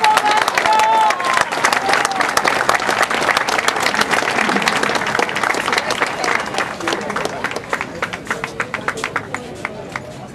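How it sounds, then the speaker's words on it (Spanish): A loud ovation for a celebrated musician, the municipal band leader, at a Tampico festival honoring musicians: dense crowd clapping with some cheering and voices, gradually thinning into scattered claps. "un fuerte aplauso para el gran músico"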